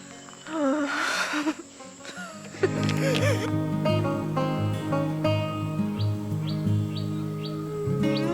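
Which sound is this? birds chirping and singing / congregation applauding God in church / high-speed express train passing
birds chirping and singing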